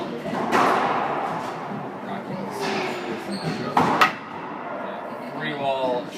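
Pro/am doubles racquetball rally: the ball cracks off the racquet and rebounds off three walls in quick hard thuds, heard over a commentator talking and a murmuring crowd.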